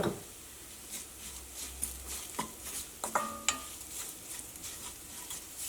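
Grated coconut with turmeric and chilli powder roasting on low flame in a pan, a quiet sizzle broken by spoon scrapes and light clinks as it is stirred.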